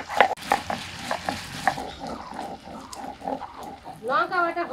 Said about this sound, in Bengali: এদিকে আমি লঙ্কাটা বেটে নেই।